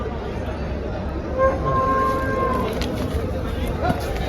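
Cows lowing at a cattle market for HF, Jersey and local breeds, one short moo rising over a steady murmur of crowd chatter and livestock noise.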